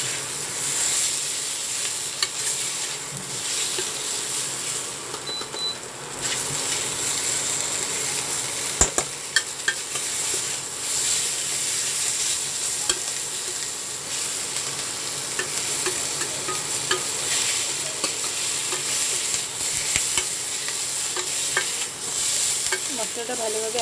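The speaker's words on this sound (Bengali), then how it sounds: "তো এর সাথে ভালোভাবে একটু নেড়ে একটু ভেজে নেব মশলার সাথে।" Boiled potatoes stirred and fried with spices in a pan, a loud continuous hiss and sizzle with scraping stirring strokes and a couple of sharp utensil knocks throughout, without speech.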